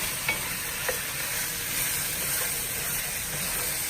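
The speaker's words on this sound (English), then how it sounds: "it's just frying up really, really good." Sausage and vegetables sizzle and crackle steadily in a hot pan, with a couple of soft clinks of stirring near the start, no voices.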